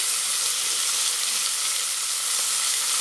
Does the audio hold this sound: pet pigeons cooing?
no